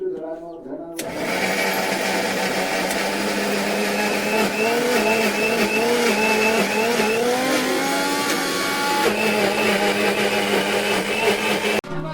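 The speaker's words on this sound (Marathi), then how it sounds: "मसाले कसे आता लावतात मिक्सरवरती दाखवते मी तुमचं" A mixer grinder whirs at full speed, grinding spices for a wedding meal, a loud steady motor whine that starts abruptly and runs continuously, with shifting pitch as the load changes.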